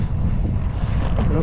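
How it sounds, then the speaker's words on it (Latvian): Steady headwind buffets the microphone while cycling along a riverside promenade by the Daugava, a continuous low rumbling roar with no pauses. "Nu ko, vējš patīkami, viegli puš pretī."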